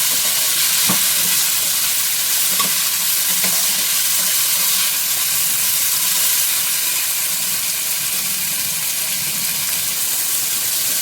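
Vegetables for malai paneer fry in a pan with a continuous steady sizzle and hiss, loud and close, with a few faint clinks and stirring sounds early on.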